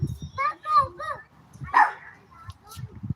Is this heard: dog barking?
yes